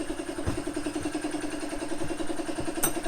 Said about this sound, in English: I think our AC compressor is dying, which is not great.